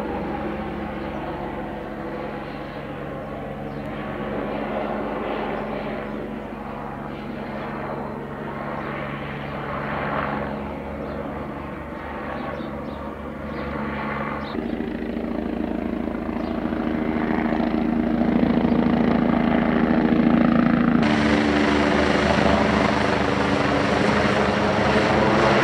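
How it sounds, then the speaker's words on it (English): A helicopter circles low over a house in a residential neighbourhood, its rotor thump and engine drone loud and steady throughout, swelling and shifting in pitch as it passes around overhead. "So why is this helicopter circling my house?"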